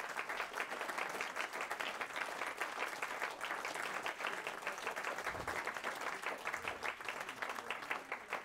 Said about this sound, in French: Je vous demande d'applaudir et Annie et Gilda par procuration.